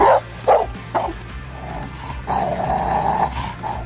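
A large Rottweiler gives several short, deep barks, then shifts into a sustained low growl, close and fairly loud.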